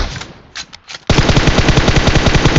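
Rapid automatic gunfire in the mobile battle royale game BGMI bursts in loud and sustained after a few faint, scattered shots, a dense rattle of close rounds.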